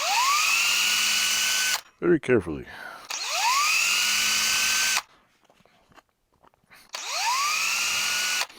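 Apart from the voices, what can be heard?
drilling holes in vintage Fisher Price clock back cover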